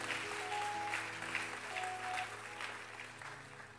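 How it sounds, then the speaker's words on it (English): During a Sunday worship service in a sanctuary, the congregation gives a hand clap of praise: sustained, fairly faint clapping from many people, a soft organ-like tone sounding beneath it. "give God a hand clap of praise"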